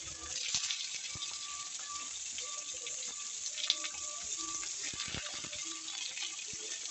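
Carrots hit hot oil in a pan for vegetable soup and keep up a steady, moderately quiet sizzle with small crackles and occasional stirring clinks, and no voices.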